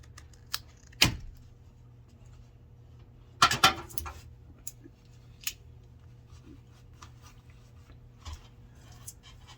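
A PEX plumbing pipe is cut with a dedicated pipe cutter: two sharp, close snips about two seconds apart, followed by a few faint clicks against a quiet background.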